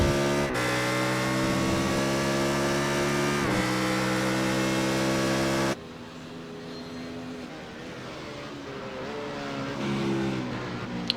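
Race car engine in a sim racing video game at Interlagos, a loud sustained high-revving whine with brief dips at gear shifts, then cutting to a quieter, more distant engine drone.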